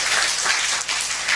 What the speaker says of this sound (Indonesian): Berikan tepuk tangan yang luar biasa buat Tuhan.